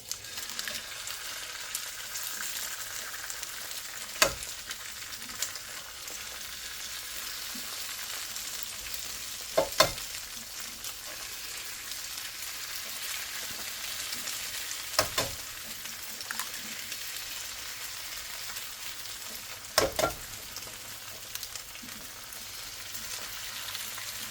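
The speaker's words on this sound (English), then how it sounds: "we're gonna start adding our eggs in there" Eggs sizzle steadily in a hot pan while being stirred for breakfast tostadas, a continuous close frying hiss broken by a few sharp scrape or tap accents roughly every five seconds, with no talking.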